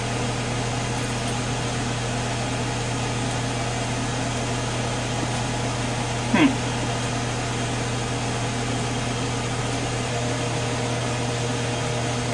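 A Ninja Foodi Deluxe cooker on air crisp, cooking asparagus, runs with a steady, even fan hum and a low constant drone, nearly unbroken apart from one brief click.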